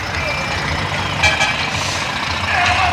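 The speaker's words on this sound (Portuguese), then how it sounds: "Olha que Scania top chegando." A Scania truck arriving at a truck festival, a steady loud engine rumble and drone close by with a brief rise near the end, voices talking over it.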